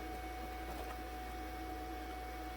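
Grinder working on the shaft side of a Honda CR-V staked U-joint, a steady, dense whirring drone with a constant tone that holds without break throughout, close and unchanging, with no talk.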